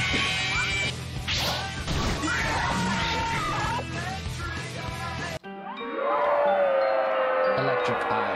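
A synthesized game sound effect from a Five Nights fan video game, bright metallic clanging tones that cut off abruptly, then a short rising electronic sweep; loud and alone.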